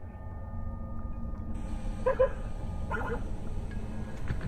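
A dog gives a couple of short barks at moderate distance over a steady background hum.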